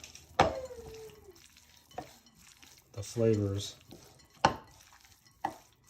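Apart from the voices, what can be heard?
stirring a jailhouse spread mixture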